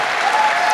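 An audience applauding at a talk on contemporary African fashion, a dense, even wash of many hands clapping, loud and close, with no voices over it.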